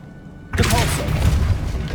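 Depulso force spell cast in the Hogwarts Legacy video game, bursting in suddenly after near-silence as a loud booming blast with a sustained rumbling, crackling tail.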